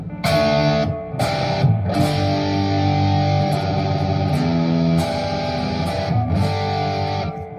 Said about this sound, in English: The reverb you're hearing is coming from the Mesa Boogie.